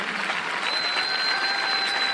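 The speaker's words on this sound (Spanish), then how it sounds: "Aplauso más fuerte" Applause from a church congregation during Christian worship: dense, steady clapping fills the whole stretch at close, loud level, with no pauses.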